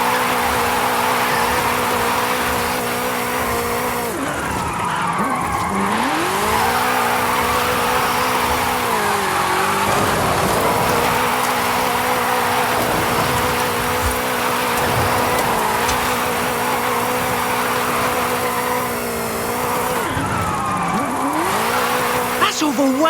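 A car drifting in Forza Horizon 5 at a drift club event: a steady engine roar runs throughout while long tire squeals rise and bend in pitch, swelling with each slide, loud and continuous with no speech over it.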